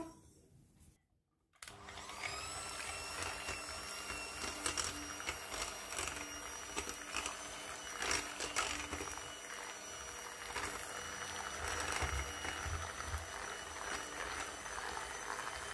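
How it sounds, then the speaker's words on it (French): Eggs being whisked with granulated sugar for peanut croquet biscuits, a steady, continuous mechanical whirring that runs unbroken for the whole stretch after a short pause near the start. "Je vais fouetter les œufs avec le sucre."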